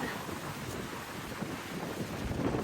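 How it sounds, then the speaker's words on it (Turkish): Outdoor rumble of strong wind buffeting the microphone over a wash of surf at a beach in Güzelbahçe, İzmir, a continuous rough roar with no voices. "Dalgaların sesini duyuyor musunuz arkadaşlar?"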